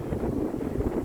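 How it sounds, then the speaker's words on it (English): Steady, broadband wind rumble buffeting the microphone, low and constant throughout with no voices. "It's getting windy."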